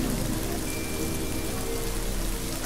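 Steady rain falls continuously, a dense even patter of drops on surfaces, moderately loud and unbroken with no voices present.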